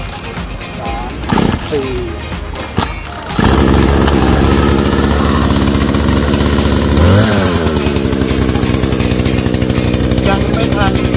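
A used Husqvarna chainsaw is pull-started after a few rough tugs, then catches and runs loudly at a steady idle with a brief rev partway through, while someone talks and counts at the start.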